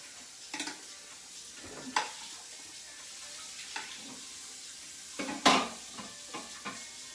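Onions stirred in a pan: a faint, low sizzle under several distinct scraping strokes and clinks of a utensil against the pan, spaced irregularly.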